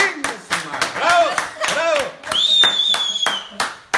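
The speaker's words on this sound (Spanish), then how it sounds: "¡Un aplauso, campaña!" Sparse handclapping from a small group during a live stream, several sharp distinct claps in an uneven rhythm, with people cheering and talking over them and a high whistle-like tone midway.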